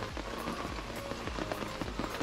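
Steady, dense rain falls on surfaces in the Kimberley region of Australia, a constant close patter of drops with no talk.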